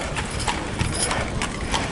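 Horse hooves clip-clopping on a road at Greenfield Village, a steady walking rhythm of several hoof strikes against a noisy outdoor background, fairly close.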